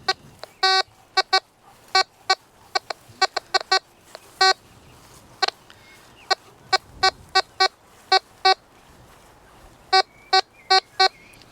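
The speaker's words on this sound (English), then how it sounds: "this is a beep and dig detector, so there's no tone differentiation" A Tesoro Mojave beep-and-dig metal detector sweeping a contaminated patch of ground gives short, sharp, high beeps, sometimes single and sometimes in quick bursts of two or three, irregularly spaced and loud against a quiet background.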